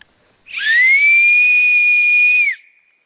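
A single loud, shrill whistle blown on an acorn cap, held steady for about two seconds with a sharp onset and quick cutoff, piercing and close, with no talk over it.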